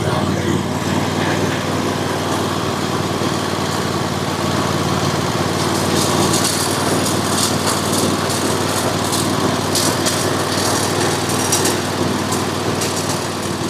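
Cub Cadet Ultima ZT1 zero-turn mower engine, just rebuilt after its engine was filled with water, running steadily with a buzzing, droning small-engine idle, close and continuous throughout.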